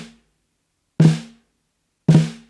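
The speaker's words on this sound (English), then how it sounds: "You drop them at the same time, and they'll arrive at different times on the snare drum." Two sharp snare drum flams about a second apart, each a quick crack with a ringing body and brief rattle, loud and close, separated by silence.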